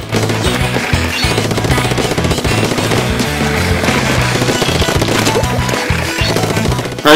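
Rapid, continuous ink-weapon fire from a shooter in the Splatoon video game during an online match, blended with dense, loud game music and effects throughout.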